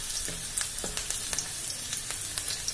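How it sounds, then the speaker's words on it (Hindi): Ingredients for macaroni fry in a pan with a close, steady sizzle. Repeated light clicks and pops run through it, with a few soft scrapes of stirring. There is no speech. "थोड़ा सा इसको फ्राई करना दे, होने दूंगी, ज्यादा नहीं"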